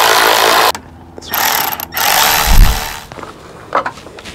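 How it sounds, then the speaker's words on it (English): Headlight screws go back into a Ford Super Duty F250/F350 with a hand tool, giving close, irregular bursts of mechanical clicking and rasping separated by short pauses and faint handling noise. "So now I'm just gonna put these screws back in"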